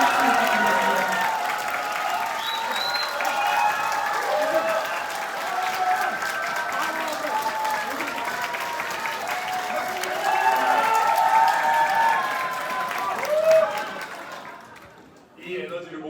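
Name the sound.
applause and cheering at a political rally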